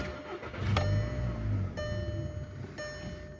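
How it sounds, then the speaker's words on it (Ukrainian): A Skoda Octavia A5 with a 1.6 MPI petrol engine cranks briefly and fires up, then settles into a steady, even idle, heard up close with no talking. "Зараз продемонструю, як заводиться автомобіль."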